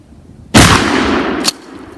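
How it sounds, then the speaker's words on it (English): Shotgun firing double-aught buckshot at 20 feet: one sharp, loud blast followed by a sustained roar and a second crack about a second later, then quiet. "We're shooting double-aught buckshot from 20 feet."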